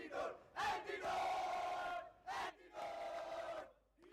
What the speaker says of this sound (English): ऐसा कुछ तो चैंट चल रहा है उनका.